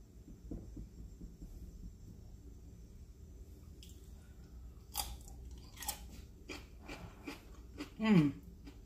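A bite of 13-calorie garlic dip is chewed close up, giving soft, wet, rhythmic mouth sounds at low volume with a few crisper crunches and a short hum near the end.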